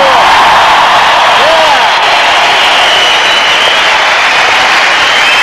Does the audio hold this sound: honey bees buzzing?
no